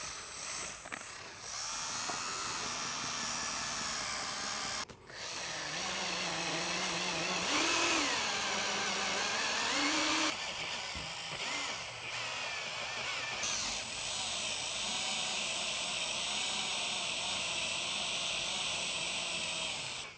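A drill spinning an eraser wheel against a Tesla Model 3 or Model Y body to strip adhesive residue after spoiler removal, a loud continuous whirring grind that briefly drops out and shifts pitch under load, no voices.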